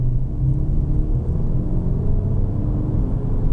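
A steady, deep engine rumble from a 2016 Skoda Octavia vRS, loud and continuous with a low droning roar and no voices.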